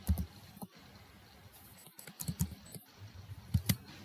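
Sparse keystrokes on a computer keyboard, typing short code in Python, scattered clicks in irregular bursts at close range over a soft background hum.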